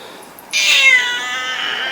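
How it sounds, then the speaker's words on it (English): A domestic cat gives a single loud, drawn-out meow close to the microphone, its cry sliding downward and trailing off, heard alone in a quiet room. "There's my cat."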